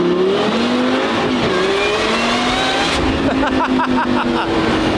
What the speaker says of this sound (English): You can hear the supercharger whine now.